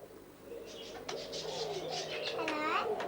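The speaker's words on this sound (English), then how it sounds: "The moustache parakeet," A moustache parakeet, or star parakeet, at a bird park gives a series of harsh, nasal calls close by, rising in the final second, amid nearby people talking.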